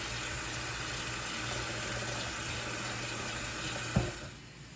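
Tap water runs steadily into a household sink to fill for cleaning, a continuous close hiss that ends with a soft knock.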